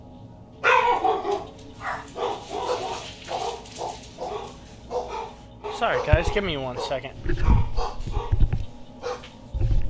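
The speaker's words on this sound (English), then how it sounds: "My dogs are going crazy." Several dogs barking and yipping excitedly indoors, loud and close, with bursts of barks that overlap a man's apologetic speech and grow louder toward the end.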